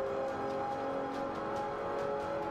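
A Lotus Exige S in the racing game Forza Motorsport 5 accelerates with a steady, buzzing engine drone held at high revs, a constant, fairly loud tone without clear gear changes or voices.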